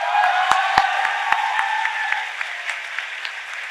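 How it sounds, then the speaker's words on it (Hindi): Applause from the audience at a mushaira poetry gathering, a steady dense wash of many hands clapping from a crowd at some distance, with a few sharper nearby claps standing out and no one speaking over it. "दोस्तों तालियां बजा के दिखाइए"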